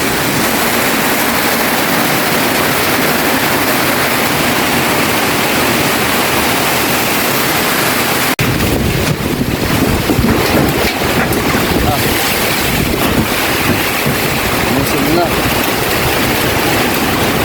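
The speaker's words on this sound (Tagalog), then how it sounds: "Medyo lumakas na rin yung hangin. Yung ulan, yan tuloy-tuloy pa rin" Loud, relentless typhoon wind roars and buffets the microphone alongside a steady wash of rain in Masbate, shifting to harsher gusting halfway through.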